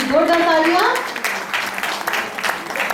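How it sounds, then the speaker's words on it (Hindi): Loud audience applause for child performer Shreya Budgal at a Father's Day stage show, beginning under a speaking voice and continuing as steady clapping. "मम्मी जोरदार तालियां।"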